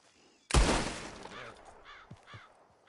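A single sharp gunshot cracks out to shoot a gun from a man's hand, a loud close blast that decays into a fading echo with faint rustling afterward.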